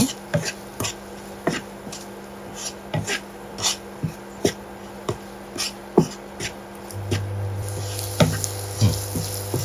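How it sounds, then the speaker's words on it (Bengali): Spices with chilli powder and salt sautéed in a pan, where sharp, irregular spoon scrapes and knocks sound close over a faint, continuous sizzle. "মরিচ গুঁড়ো আর লবণ এই মশলাগুলো কষিয়ে নেব"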